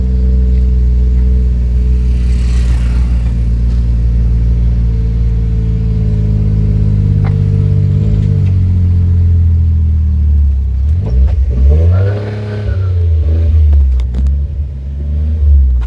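A car engine revs on a road, a loud, continuous close rumble that holds steady, then surges and strains with rising and falling pitch near the end.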